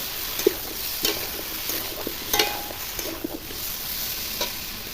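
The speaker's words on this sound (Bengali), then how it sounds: "এইবার ভালো করে একটু ভেজে দেবো" Green chili paste and dried chilies fry in a pan with a soft, steady sizzle, broken by scattered light scraping and stirring clicks, close but quiet.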